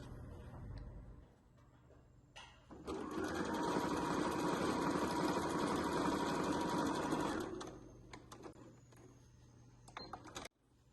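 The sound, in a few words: sewing machine stitching lining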